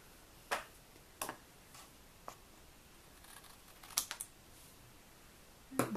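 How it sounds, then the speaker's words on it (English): Scissors snipping through a paper strip for a 3-D die cut card, a few crisp separate cuts spaced apart in a quiet room. "go ahead and cut my strip down to be"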